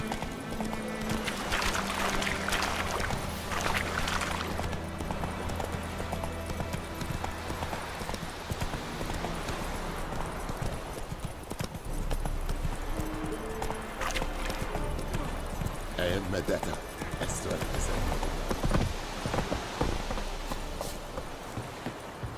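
Roach the horse gallops in The Witcher: Wild Hunt, steady rapid hoofbeats clopping on and on over a bed of game music and ambient noise throughout, with no voices.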